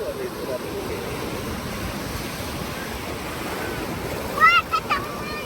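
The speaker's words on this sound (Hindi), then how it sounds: "It's a big wave, be careful, hold tight" Ocean surf washes up on a beach in a steady, loud rush with wind across the microphone, and a few short voices break in near the end.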